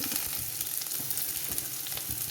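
Onions sizzle and crackle in a hot pan with pork being fried for a Kerala-style pork and Chinese potato stir-fry, a steady dense frying hiss with small pops and occasional stirring, close and continuous without talk.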